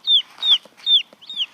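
Mixed-breed backyard chickens kept for both eggs and meat give four quick, close clucking calls in a steady rhythm, loud and clear over a quiet background.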